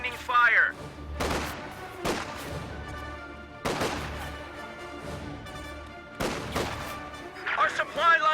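Machine gun fire from a fighting position in a World War II strategy video game, bursts of rapid shots alongside scattered gunfire and distant explosions, with game voice callouts mixed in.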